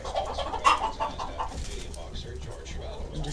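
A flock of poultry fed probiotics clucks and coos nearby, with a brief louder call early on and steady bird chatter mixed with a person talking.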